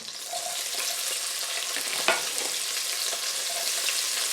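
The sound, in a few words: sliced onion frying in Dutch oven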